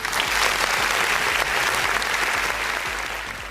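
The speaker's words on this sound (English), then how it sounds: "let us give another virtual round of applause for Sister Tanya." Dense, steady applause rolls on without a break for a speaker at a 2021 trade union regional workshop held online, loud and continuous before easing slightly at the end.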